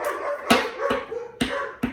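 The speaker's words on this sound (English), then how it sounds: "My dogs are being nuts right now, as per usual." Several dogs bark in sharp, loud bursts at close range, about four or five yaps spread over a couple of seconds, with no talking.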